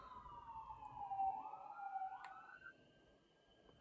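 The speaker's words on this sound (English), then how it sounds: "I don't really need sound effects when I got sirens in the background that just keep going off" A police siren wails in the background, faint and distant, its pitch sliding up and down in a slow sweep before fading out.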